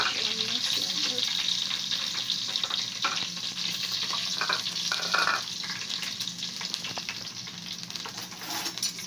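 Chopped onions fry in a pot for a low-budget family soup, giving a steady, close, loud sizzle with scattered stirring scrapes throughout and no talking.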